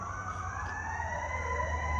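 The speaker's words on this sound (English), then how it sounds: "I haven't heard that type of siren before." A fire truck siren wails at a distance, its rising and falling tones sweeping over a low rumble of machinery nearby.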